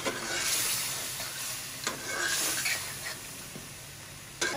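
Mutton chop karahi frying in a wok with yogurt and spices, a steady broadband sizzle with occasional soft scrapes of stirring, close and moderately loud, no voices.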